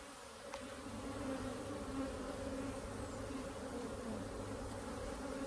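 Agitated honeybees fill an open queenless hive with a steady, loud, close buzzing hum that holds unbroken throughout, with no voices over it.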